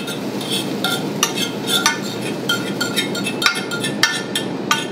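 Scrambled eggs tipped into a hot pot, soft sizzling under repeated clinks and scrapes of a utensil against the metal, close and fairly loud.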